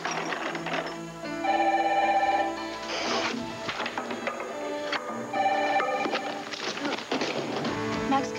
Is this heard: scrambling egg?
no